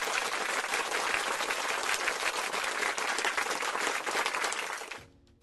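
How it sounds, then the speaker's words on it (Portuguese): A crowd applauds loudly and steadily as a drama trailer plays, and the dense clapping cuts off sharply at the end. "Palmas aqui pro trailer"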